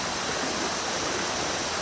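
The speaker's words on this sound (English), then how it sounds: "I'm going to put it underwater and I'm going to wait for the bubbles to stop" A sampling bottle held underwater in a stream gives off a steady rush of bubbling, a dense continuous gurgle layered over the flowing water, with no voices.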